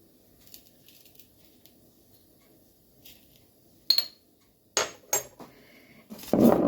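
Vegetables tossed with olive oil and salt in a kitchen bowl or pan, heard as sparse soft scrapes and a few sharp clinks of a utensil against the dish, louder and busier toward the end.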